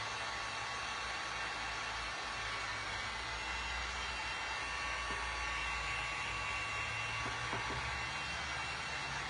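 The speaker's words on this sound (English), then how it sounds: "Love that heat gun." A heat gun roars with a steady, loud, unbroken blowing hiss as it dries snow-texture paint on a glass and resin snowman hat craft piece.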